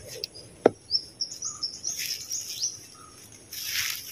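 Wild kalaw bird calling outdoors in the Philippines, a few sharp high chirps and short whistled calls spread across the clip, fairly close, over quiet background rustle.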